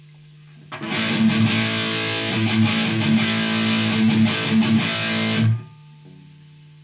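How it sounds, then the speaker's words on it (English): An electric guitar through a Boss DS-1 Distortion pedal plays heavily distorted chords and riffs for several seconds, loud and close, over a faint steady hum that remains after it stops. "The Boss DS1 Distortion."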